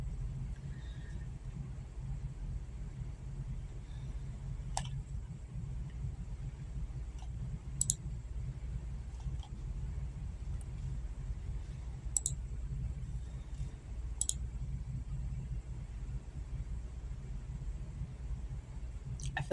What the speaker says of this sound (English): I'm having to keep clicking shit.